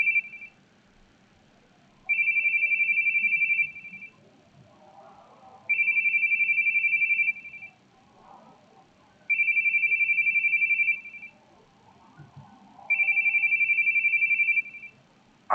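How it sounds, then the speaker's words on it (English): A phone ringing in repeated electronic trills, four evenly spaced bursts of about two seconds each with pauses between, over a faint quiet room background. "Your phone. Your phone's ringing."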